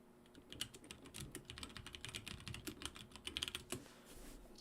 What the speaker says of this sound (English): Sorry if you could hear my typing there.